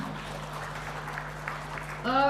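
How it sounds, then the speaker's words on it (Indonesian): An audience at a faculty graduation ceremony in an agriculture faculty applauds Bu Susana with a steady wash of clapping. A voice begins speaking over it at the very end. "Beri aplaus untuk Bu Susana"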